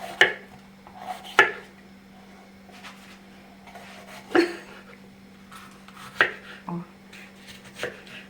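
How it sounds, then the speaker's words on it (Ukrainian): A knife chops bell peppers on a cutting board in sparse, separate thuds, about six or seven cuts spaced irregularly, close and moderately quiet over a low steady hum. "І так продовжую, поки не поріжу весь, весь перець"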